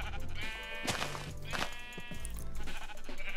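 Minecraft sheep bleating, several short nasal bleats in quick succession, close and clear over faint game ambience.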